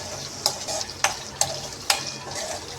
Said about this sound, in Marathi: मसाला टाकते, चांगलं परतून घ्यायचं आपल्याला